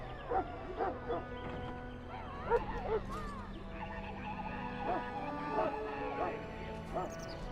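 A Mabari warhound in Dragon Age: Origins gives a few short barks and whimpering yips over steady game ambience, with a voice talking in the background.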